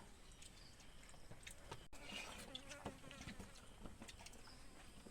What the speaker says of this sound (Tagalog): May langaw.